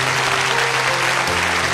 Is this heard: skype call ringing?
no